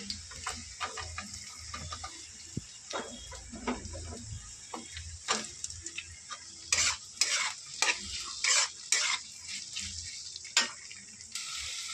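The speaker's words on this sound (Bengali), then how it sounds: "দেখো পেঁয়াজটা দিয়ে কিছুক্ষণ নেড়ে চেড়ে নিয়েছি" Chopped onion with garlic and ginger sizzles in a pan while a spatula scrapes and stirs in irregular bursts, growing busier and louder toward the end.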